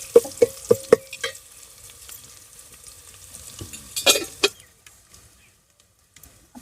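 Radish goes into a hot pan for a village-style sabzi salan, bringing a few sharp clanks of stirring followed by a soft, steady sizzle and a final burst of scraping before it quiets.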